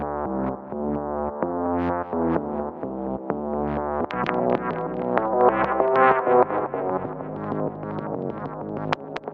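Dry synth melody with both the shaper effect and the arpeggiator switched off, held tonal chords giving way to busier, brighter note patterns over about nine seconds, with no one talking.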